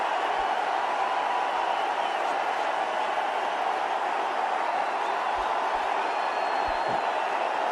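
Steady, broad crowd applause rolls on at a cricket one-day international for Virat Kohli's century against New Zealand, a dense continuous wash of clapping from a large stadium audience heard from a distance with no clear breaks.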